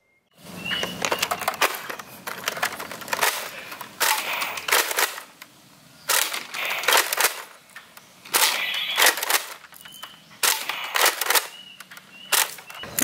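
Nerf Elite Long Strike dart blaster firing and being worked, a run of sharp, close snapping clacks and rattling bursts spread across several seconds, loud and alone with no talk.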